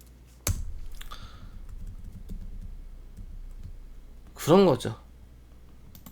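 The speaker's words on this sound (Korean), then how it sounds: "메모장에다가 이렇게 소박하게 텍스트로 이렇게 하나하나 타이핑 치면서" Someone types text into a notepad on a computer keyboard: a sharp keystroke, then a few soft taps, heard under a man's speech.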